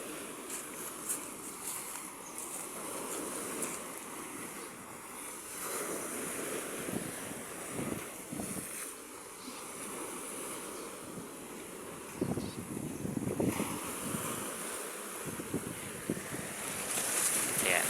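Waves washing onto a beach shore near a seaside hut, a continuous rolling surf with wind buffeting the microphone and no speech.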